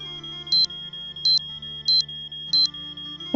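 An alarm sounds in the Nancy Drew: Treasure in the Royal Tower video game, a loud electronic beep-beep repeating four times at even intervals over a steady high tone and low background hum.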